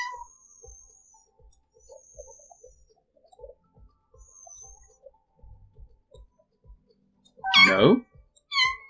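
A short, close kitten meow rises near the end of the Kitten'd video game scene, with a second brief cry just after. Before it come faint chirps and soft game noises, and there is no talking.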